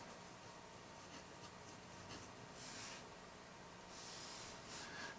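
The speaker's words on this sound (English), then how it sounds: "So let's go ahead and give it a little shot here writing." A vintage Sheaffer Snorkel fountain pen with a firm medium nib scratches softly across paper in short strokes, faint and close, with quiet pauses between words.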